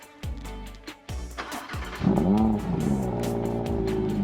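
A 2022 Audi R8 V10 Performance sits stationary as its exhaust barks through a few sharp blips, then rises into a longer throaty rev with a wavering tone, close and loud, with no voices.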